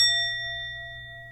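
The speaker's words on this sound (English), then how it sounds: "So I'm going to sound the sound bell" A sound bell struck once to cleanse energy during a tarot reading, a clear bright ding with a long, pure ringing tone that slowly fades, heard alone.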